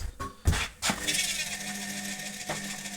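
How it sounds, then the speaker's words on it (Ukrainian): A washing machine drum starts turning after its motor brushes are replaced. A few thumps give way to a steady, droning motor whine with a tonal hum, heard up close. "Барабан крутиться, пішла робота."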